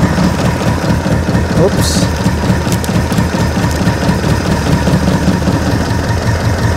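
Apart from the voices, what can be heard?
old motor running roughly after 10 years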